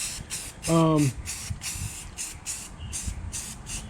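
Rattle-can primer being sprayed onto a car roof, a series of short close hissing bursts in a steady rhythm, with a brief voiced sound near the start.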